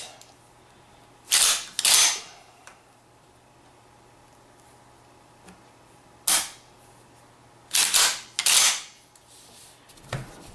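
A Remington 870 pump-action shotgun is cycled during a function test. Sharp metallic clacks of the action come in separate bursts, some single and some in quick pairs, with quiet gaps between them.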